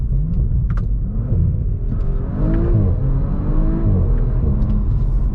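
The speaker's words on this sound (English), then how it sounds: "I really like the tone of this engine" A 2020 Audi RS4 Avant engine accelerating hard from inside the car, a deep loud rumble with rising and falling rev sweeps and gear changes, steady and continuous throughout.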